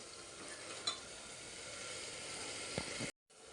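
Masala spices tipped into a frying pan for chicken biryani, a soft continuous sizzle with a couple of light clinks and stirring scrapes, then a brief drop to silence.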